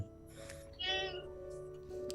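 A cat meows twice nearby, a drawn-out cry and then a shorter one, over a soft steady electronic hum.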